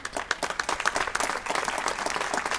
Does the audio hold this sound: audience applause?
yes